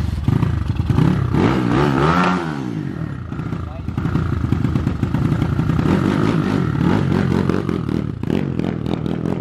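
A 287cc motorcycle engine revving hard outdoors on a street, with loud rising and falling roars and rough clattering throughout, close to the microphone, as voices talk over it.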